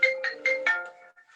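A mobile phone ringtone goes off during a discussion: four short repeating melodic bursts, fairly clear and close, then fading to a faint tail.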